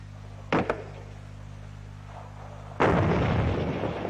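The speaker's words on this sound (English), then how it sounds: "The M40A1 106mm recoilless rifle." Firing of an M40A1 106mm recoilless rifle, heard as a short sharp report and then a second heavy blast that rumbles on loudly to the end, over a steady low hum.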